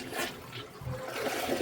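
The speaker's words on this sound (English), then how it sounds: "We'll try flushing it again once it softens up." A toilet flushing while partly blocked, with water rushing and swirling at moderate level for under two seconds and no talk over it.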